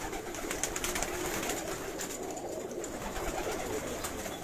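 Pigeons cooing on a rooftop loft of Kabuli high-flyer pigeons in Karachi, soft repeated low coos over a steady background hum, with no one talking.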